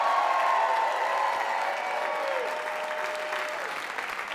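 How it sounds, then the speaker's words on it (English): A comedy club audience applauds as a comic takes the stage, a steady, full wash of clapping with light cheering, fading slightly toward the end while a voice briefly calls out over it. "Clap it up, man."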